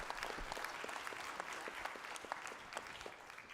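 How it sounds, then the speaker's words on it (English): A panel audience at an Indianapolis church event on housing applauds its facilitator, Professor Wilson, with steady, dense clapping that holds at an even level throughout. "give a huge round of applause for our facilitator, for Professor Wilson"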